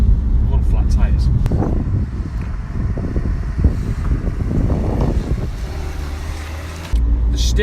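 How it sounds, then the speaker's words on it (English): Steady broadband road and tyre roar from run-flat tyres on a Mini Paceman Cooper SD, heard from inside the moving car with wind rush and faint voices over it, continuous until a brief dip near the end. "I also can hear straight away a lot of tyre noise, and that's probably from these run flat tyres."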